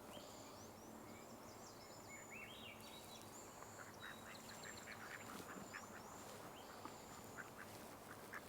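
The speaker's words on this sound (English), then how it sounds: "Let's glance out at all these ducks again." Ducks quack in a constant outdoor wash alongside chirping songbirds, including cedar waxwings, during spring migration, the calls scattered and moderately distant with no talk.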